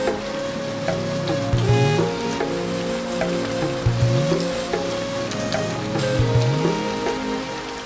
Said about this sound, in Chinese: 山顶开始噼噼啪啪的下雨了